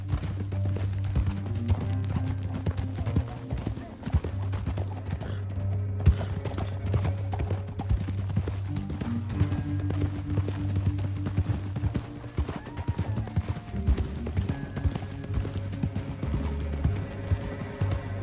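Rapid, rhythmic hoofbeats of a galloping horse in Red Dead Redemption 2 pound steadily over a continuous low musical drone, with occasional neighing.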